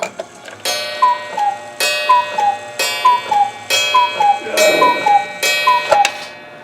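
Cuckoo clocks in a Swiss clock shop tick and chime in a steady, repeating rhythm, several bright pulses per second. They sound close and clear, with a voice talking over them.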